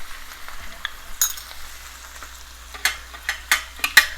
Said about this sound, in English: we got to saute them till the oil separates